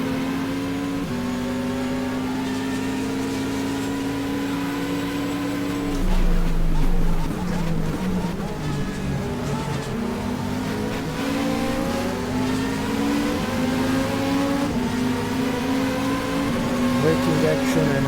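A Ferrari race car in the GTR2 racing game brakes and accelerates: a loud, steady engine tone drops as it slows and downshifts, then climbs again under acceleration for the rest of the stretch.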